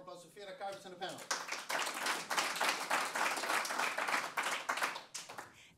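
Warm audience applause for a speaker and panel at a SXSW 2022 session, clapping that swells quickly after a brief voice at the start and continues steadily, fairly close and lively.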